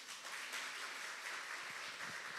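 Church congregation applauding after the pastor's announcement, a steady, even wash of many hands clapping at moderate distance, quiet overall with no voices rising above it.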